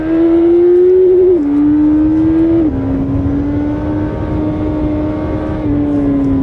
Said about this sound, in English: Let's compare it to a Hayabusa in real life